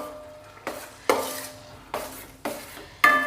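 Banana for pazham pradhaman being stirred and fried in ghee: a spoon scrapes the pan in five distinct strokes roughly every half second over a gentle sizzle, close and clear, with no talk.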